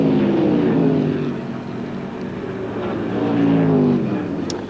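A race car at the 1978 Australian Grand Prix rushes down into Holden Corner on the circuit, its engine a loud, steady roar that dips briefly and swells again as it passes.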